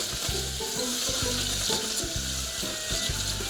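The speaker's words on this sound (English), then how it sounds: "Bit of olive oil. In goes my onions and garlic." Onions and garlic sizzle and fry in olive oil in a pan for eggplant parmigiana, a dense close hiss under a regular rhythm of stirring scrapes, with no talk.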